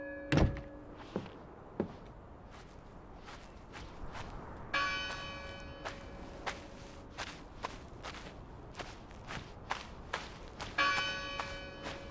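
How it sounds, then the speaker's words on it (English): A bell rings in the video game Draugen. Three resonant strikes spread across the clip ring out over quiet dull thuds and footstep-like knocks in a hushed scene. "Who rang that bell?"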